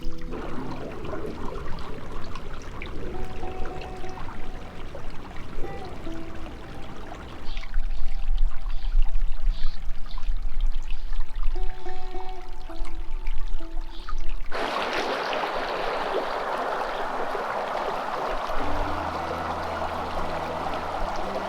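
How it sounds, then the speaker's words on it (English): Water rushing through a stream in a flood-cut desert canyon, a steady broadband flow that shifts character partway through and grows brighter and closer toward the end, with no talking. "Water's flowing through."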